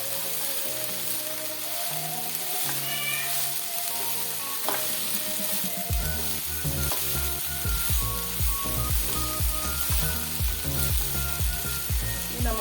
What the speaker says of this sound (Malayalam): ഉപ്പും കൂടെ ചേർത്ത് നന്നായിട്ട് മിക്സ് ചെയ്ത് കൊടുക്കാം